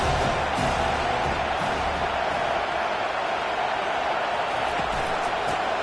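A stadium crowd at a Notre Dame versus Mississippi State football game produces a continuous, dense roar of cheering and noise, loud and steady with no clear breaks, under faint commentary.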